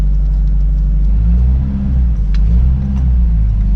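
A Nissan Hardbody junkyard work truck revving loudly up close as it pulls away, a steady heavy engine drone with rising and falling revs.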